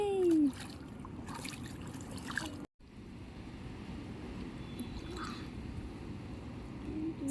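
Water splashes and trickles as a child swims during a camping outing, a steady close burble with small splashes and faint voices in the background.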